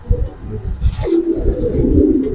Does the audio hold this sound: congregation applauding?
no